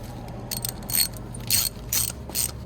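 A ratchet clicking in short bursts as a glow plug hole cleaning tool is tightened into a diesel 2JZ engine, close and fairly quiet, with no talking.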